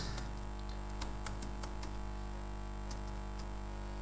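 A run of light keyboard keystrokes taps out a formula in Excel, with irregular clicks over a constant electrical hum and no speech.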